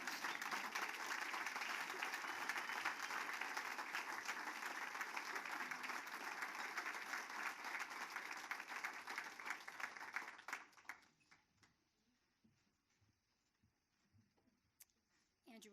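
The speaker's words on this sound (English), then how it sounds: "So just give her a huge round of applause" Loud, dense applause from an audience at a charity fall ball fills the first ten seconds, then quickly dies away into near silence with a few scattered sounds.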